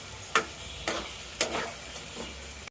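Potatoes fry in a pan for a chicken curry and get stirred, with a constant soft sizzle broken by four scraping strokes of the spatula in quick succession, close and clear, before it cuts off abruptly.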